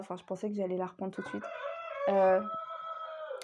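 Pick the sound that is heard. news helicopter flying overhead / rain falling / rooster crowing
rooster crowing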